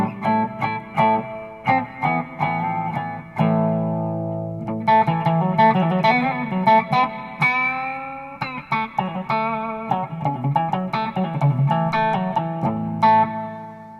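Overdriven electric guitar through a Fesley FME-1000 workstation with amp and cab simulation and reverb, playing chords and riffs with sustained notes and short rhythmic stabs, loud and continuous with no talk.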